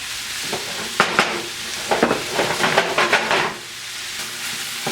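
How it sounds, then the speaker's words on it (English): Onions sizzling and softening in a pan for black bean and butternut squash enchiladas, a close, loud frying hiss broken by several sharp stirring scrapes in the middle. "Just want to cook this down until the onions are soft"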